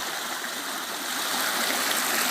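Stream water flows at Kongamala in a steady, close, full rushing wash with soft gurgles, uninterrupted throughout.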